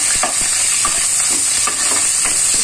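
Oil sizzling loudly and steadily in a pan, a bright hiss with regular stirring taps running underneath.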